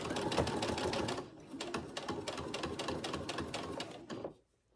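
A sewing machine stitches a quarter-inch seam on a fabric memory bear, a fast rattling run of needle strokes that pauses briefly, resumes, then stops abruptly near the end, loud and close.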